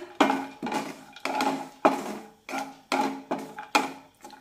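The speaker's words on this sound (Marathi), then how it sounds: "हे काजू बदाम काही सेकंद तुपामध्ये छानपैकी परतून घेऊया।" Almonds and cashews are stirred in ghee in a pan, a series of about ten sharp clattering scrapes in an uneven rhythm, close and fairly quiet.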